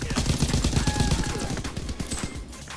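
Rapid automatic fire from an FG 42 rifle in the Call of Duty WW2 video game, a dense, loud, continuous string of shots with no talk.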